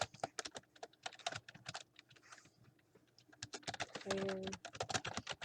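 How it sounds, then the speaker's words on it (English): Loud computer keyboard typing, close and clattering in quick irregular bursts, with a pause midway and a brief tone near the end. A voice speaks faintly underneath. "Sorry about my loud keyboard."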